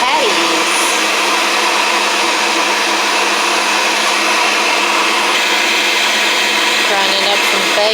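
A meat grinder grinds fresh, partly frozen pork and bacon for sweet onion patties, with a loud, constant motor whine that runs unbroken throughout.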